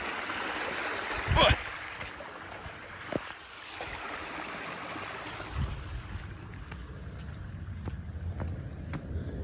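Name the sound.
creek water flowing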